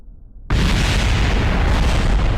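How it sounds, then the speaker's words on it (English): A loud explosion in Kerbal Space Program on the surface of Eve erupts suddenly after a quiet moment and continues as a sustained roaring blast with no speech. "If we're walking across the surface, things are exploding."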